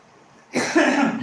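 After a brief quiet moment, a single harsh, close cough bursts out loudly.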